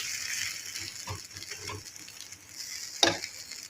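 Veg omelette batter sizzles steadily in hot oil, a dense, close frying hiss with a sharper crackling burst near the end and no talking.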